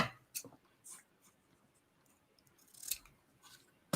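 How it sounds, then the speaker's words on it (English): A few quiet snips of scissors cutting through ribbon, short crisp cuts spaced apart over faint background hush. "fold your ribbon in half, and then just cut"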